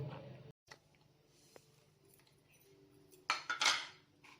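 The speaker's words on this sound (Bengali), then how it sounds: "এবার দইটাকে বেশ করে মশলা দিয়ে ফেটাচ্ছি" Yogurt with spices is whisked in a bowl, with a few soft clinks early on and then a short burst of quick, bright metallic beating near the end, close by.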